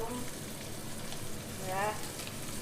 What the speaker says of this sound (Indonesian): Siapkan minyak, bawang merah, bawang putih hingga harum